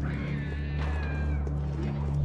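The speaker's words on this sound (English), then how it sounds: "Sounded like a cat being shot." A cat yowls in Resident Evil 3 Remake, a drawn-out wavering cry rising over a steady low game hum, close and fairly loud.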